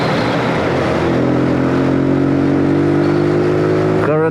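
A Zontes G125 (ZT125 G1) motorcycle engine idles while warming up in cold weather, a loud, close, steady hum with a rising tone toward the end.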